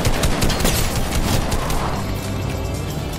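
Dense, booming gunfire from a lever action rifle in Fortnite, a rapid cluster of loud shots and impacts layered over battle noise, fading slightly toward the end with no speech.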